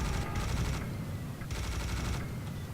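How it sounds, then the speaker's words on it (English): A minigun fires in Serious Sam: The First Encounter in a desert dunes level, a dense continuous roar of rapid shots with no break, heard at a moderate level. "And then switch to the minigun."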